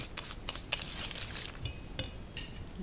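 Spoon clinking and scraping against a bowl while no-bake Mars cheesecake filling is stirred with vanilla extract, a run of sharp, close metallic taps followed by softer scattered clinks.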